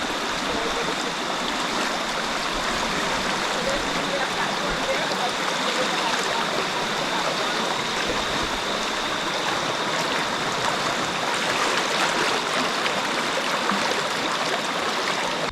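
Steady broadband rush of a river stream flowing at an entry point in a Jamaican nature reserve on an animal farm, continuous and fairly close, with no talk over it.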